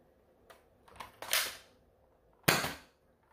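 Quiet, close snaps and clacks from an X-Shot Insanity Manic toy blaster, a few light mechanical clicks followed by a sharper pop, then a single crisp firing crack.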